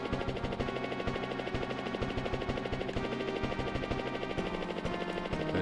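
A rescue helicopter in the Pilotwings video game thrums with a steady rapid rotor chop, loud and continuous, with a synthesized game soundtrack underneath and no speech.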